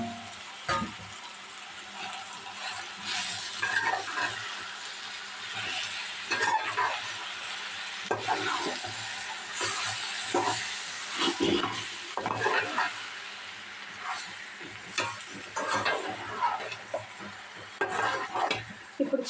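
Chicken pieces tossed into a hot pan of frying onions and chili powder sizzle loudly, with repeated stirring scrapes and a few utensil clinks, close up and with no voices.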